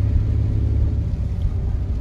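Car driving on icy, slushy North Texas roads during a freezing rainstorm, heard from inside as a steady low engine and road rumble, continuous and fairly loud with no voices.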